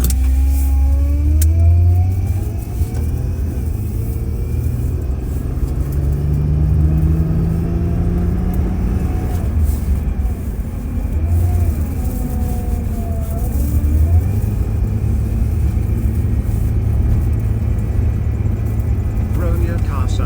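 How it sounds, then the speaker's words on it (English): A car engine in a racing video game revs and drones continuously, with rising and falling pitch sweeps as it accelerates, loud and steady throughout while a player talks over it. "Bro, your car sound like a jet."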